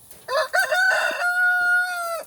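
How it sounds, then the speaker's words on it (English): A single rooster crows loudly and close by, one long cock-a-doodle-doo with a sustained held note at the end. "He likes to crow."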